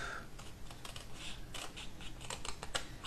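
Card stock for a block card is cut, with a quiet series of short, crisp snips and clicks spaced unevenly, close and faint.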